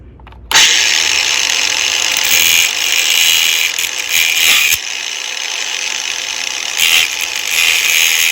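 Angle grinder with a guard cutting into a hose, bursting on loud and close with a high, sustained whine, shifting in tone as the blade bites and eases off, with no voices.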